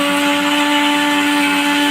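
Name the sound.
mixer grinder grinding coconut with cinnamon, cloves and salt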